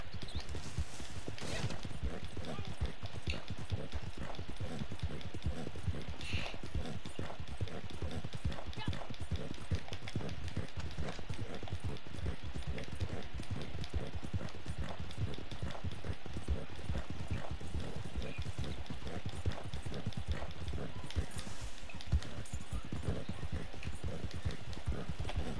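A horse gallops in the video game Red Dead Redemption 2, its hoofbeats a steady, rapid clip-clop that runs throughout, with a person talking over it at times.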